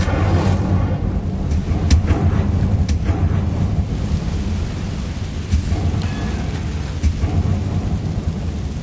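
A fire spell cast in the Hogwarts Legacy video game, heard as a steady, dense rumbling roar with crackling bursts that carries on throughout without any talk.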